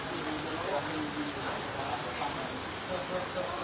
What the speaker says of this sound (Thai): ตอนนี้ฝนตกลงมาอีกแล้วนะคะ